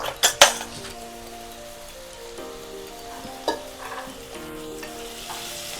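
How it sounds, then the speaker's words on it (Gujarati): Masala fries in a pan with a continuous crackling sizzle, punctuated by a few sharp metallic clinks of the stirring spoon against the pan early on and again midway. "તો મસાલો આપણે 2 થી 3 મિનિટ પકાવશું"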